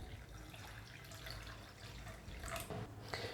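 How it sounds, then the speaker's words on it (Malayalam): Water poured into a bowl of semolina (upma rava) for instant dosa batter, a steady close trickling and splashing that runs the whole moment with a few louder splashes near the end. "ഇനി ഇതിൻ്റെ അകത്തിൽ കുറച്ച് വെള്ളം ഒഴിച്ചു വെക്കാം."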